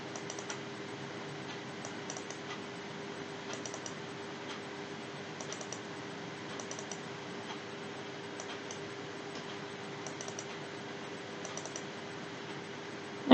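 A computer mouse clicks on stations one by one during Ocean Data View software work, faint repeated clicks in small clusters over a steady background hum.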